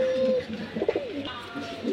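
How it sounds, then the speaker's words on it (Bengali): A pair of pigeons coo close by, with soft rolling coos and a brief throaty burble in a short, clear burst. "সেই বাছাই করা কবুতরের ভিতরে এই এক জোড়া কবুতর"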